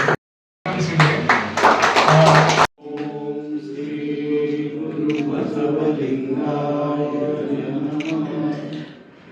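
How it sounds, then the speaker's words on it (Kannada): An audience at a ward committee event in a civic hall in Hubballi-Dharwad breaks into loud, dense applause for about two seconds, which stops abruptly and is followed by sustained tonal sound. "ಅದಕ್ಕೊಂದು ದೊಡ್ಡ ಒಂದು ಸುತ್ತಿನ ಚಪ್ಪಾಳೆ ಆಗ್ಬೇಕು."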